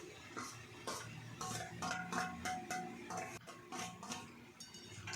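Fried dhoka lentil cakes being stirred in a cooking pan, with repeated light scraping and clinking of a spoon against metal in an uneven rhythm, close and moderately quiet, with no talking.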